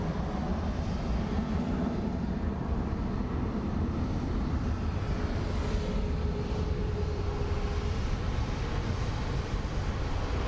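Alaska Airlines Boeing 737-900 airliner at Phoenix Sky Harbor International Airport, a loud continuous jet engine roar and rumble holding steady throughout, with a faint whining tone rising briefly partway through.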